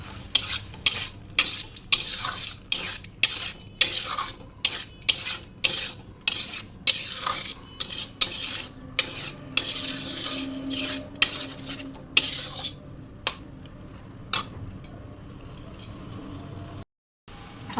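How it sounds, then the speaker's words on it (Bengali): Ginger paste and cumin powder frying in a pan while being stirred, with a steady sizzle under repeated rhythmic scraping strokes of a utensil against the pan, close and fairly loud. "দিয়ে এখন ভালো করে এটাকে ভাজা ভাজা করে নেব।"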